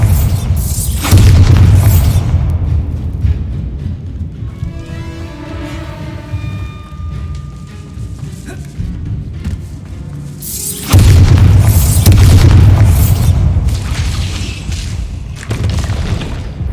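Bombarda spell explosions in the video game Hogwarts Legacy: two heavy, loud booms about ten seconds apart, each with a long rumbling decay, and a quieter ringing, humming stretch between them.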